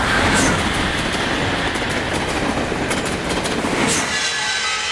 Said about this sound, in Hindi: रात को कामारेड्डी में ट्रेन रुकेगी।